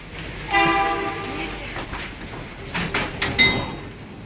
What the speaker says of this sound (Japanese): 私は電車の音で目が覚めます。